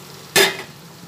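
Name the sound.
pointed gourd (potol) added to hot oil with poppy seeds, frying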